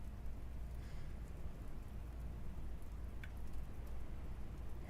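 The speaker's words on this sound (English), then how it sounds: "Heavy ass rain out there." Heavy rain falling outside, a steady dense low hiss of rain heard indoors and somewhat muffled, with no voices over it.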